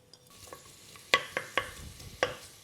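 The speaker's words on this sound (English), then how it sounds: "the first thing I'm going to do is sort of soften my onions and my garlic" Onions and garlic soften in a pan with a gentle low sizzle, punctuated by several crisp spoon knocks against the pan at uneven intervals, heard up close without speech.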